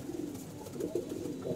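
A pigeon coos nearby in a series of soft, low, rolling calls, repeated a few times against a faint background.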